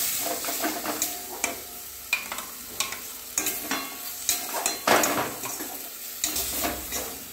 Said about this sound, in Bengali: এবারে আমি এই যে পেস্টটা করেছিলাম পোস্ত থেকে, কাজু থেকে, কাজু বাদাম, টমেটো, এটা দিয়ে আমি এবারে একটুখানি ফ্রাই করছি।